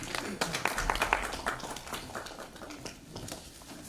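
Hall audience at a Lucknow award function applauding, a dense patter of many hands that is strongest early and tapers off, while a voice talks over the clapping.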